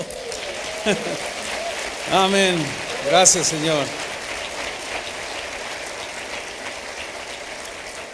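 A church congregation at a communion service keeps up a steady patter of applause while someone speaks over it briefly.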